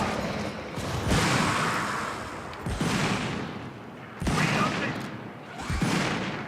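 A gun emplacement in a strategy video game fires in loud repeated salvos, each a sharp crack followed by a rumbling tail, roughly every one and a half seconds, while someone talks quietly underneath.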